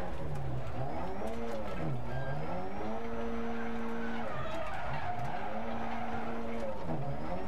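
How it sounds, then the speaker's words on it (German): DiRt Rally 2.0 rally car driving on a bare wheel rim after losing a tire, with a loud, constant grinding scrape and a rising and falling engine whine that swoops repeatedly, heard without talking. "Wir fahren auf der Felge, das geht auch."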